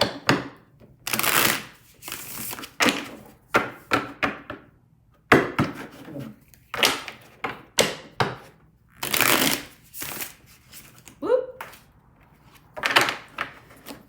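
A deck of tarot cards shuffled by hand in repeated riffling bursts, close and fairly loud, with brief pauses between rounds and no talking.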